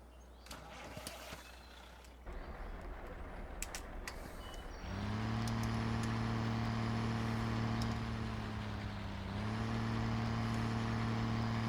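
Modded triaxle dump truck in Farming Simulator 2015: the engine starts after a few seconds of clatter, then settles into a loud, steady diesel drone with a strong low hum, easing briefly midway before holding on.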